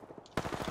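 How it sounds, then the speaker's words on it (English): Gunfire in a video game: quiet rapid shots, then a louder burst of rattling automatic fire starting partway through the very brief moment. "Opening fire on the enemy."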